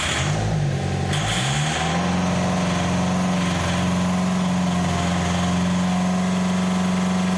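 A 2.2 diesel Opel Frontera engine cranks and catches with a rough burst after its fuel system was bled of air, then settles into a steady, loud, throbbing idle close by.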